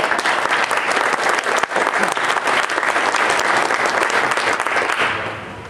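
Loud, steady applause from a seminar audience at an arcade and pinball convention greets presenters from Jersey Jack Pinball, sustained for about five seconds before tapering off.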